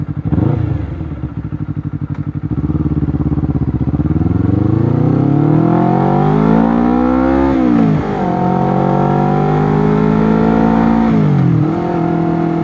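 A Honda CBR 250RR twin-cylinder motorcycle in comfort mode revs up close and loud, its engine note climbing smoothly and dropping back in a few swells, with no talking over it.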